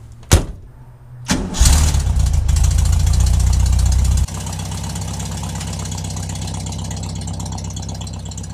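A 1967 VW Beetle engine cranks, fires and roars to life, revving high for a few seconds before dropping to a steady rumbling idle, close by.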